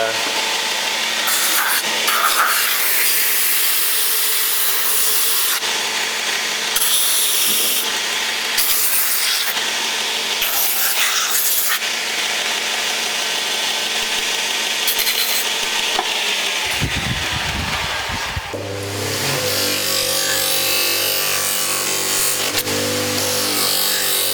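Steady abrasive rubbing and scraping works along the edge of a Hultafors axe freshly fitted with rivets, near and continuous in bursts, ending in a deeper buzzing tone.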